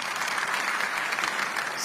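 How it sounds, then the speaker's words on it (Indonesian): Applause from a church congregation during a sermon, a dense, continuous roar of many clapping hands, steady and moderately loud, with no voices over it. "Tepuk tangan yang paling meriah."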